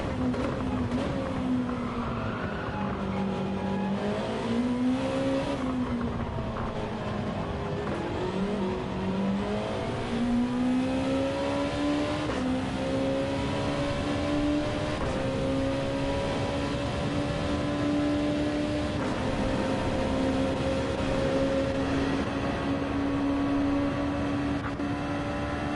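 A GT race car's engine drones from the onboard view in a racing video game on the Grand Valley Highway 1 track, holding a steady loud pitch that rises and dips with gear changes and throttle, with no talking.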